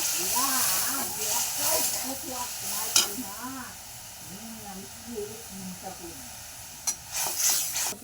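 Tamarind water poured into a hot pan and stirred for a breakfast dhokla, hissing and sizzling steadily while a spoon scrapes and clinks now and then, close and continuous, with a voice speaking over it.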